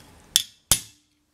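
Two sharp, ringing metallic strikes of a hammer driving a nail punch into a metal spatula, close and evenly spaced, each decaying quickly into silence.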